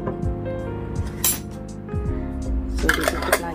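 A clean spoon scooping homemade gelatin-free strawberry jam from a jar, with a series of soft metallic clinks and scrapes against the glass, louder taps toward the end, close up and without talk.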